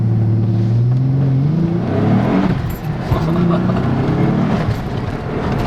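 A Nissan 300ZX Z32 with a twin-turbo engine swap accelerating hard, a loud, close engine note rising steadily in pitch through the gears, heard from inside with no talk.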